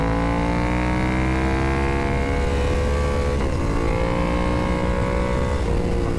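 BMW S1000RR superbike, a 2023 model, screaming at high revs on the Almeria race track, a loud, continuous, close engine wail with rising pitch sweeps as it accelerates through the gears.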